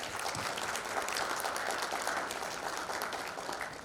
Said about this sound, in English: So, a round of applause again for Siddharth sir.